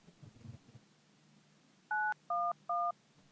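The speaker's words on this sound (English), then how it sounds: "My phone's ringing." A telephone rings as three short, evenly spaced electronic two-tone beeps, clear and close, following a brief faint rustle.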